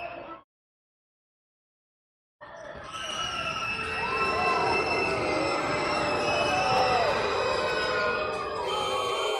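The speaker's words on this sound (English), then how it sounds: "I'll let you hear the crowd on this one real quick." A basketball arena crowd at a Jamestown Jackals versus Owensboro Thoroughbreds game roars in a sustained, loud din after a brief gap, with shrill tonal whistles and squeaks running through the noise.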